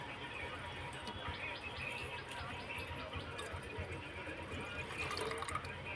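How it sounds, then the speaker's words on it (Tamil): Water being poured into a pan while making homemade ice cream, a steady splashing, filling trickle heard close, with a voice talking over it. "அதனால தண்ணி சேர்த்துக்கணும்"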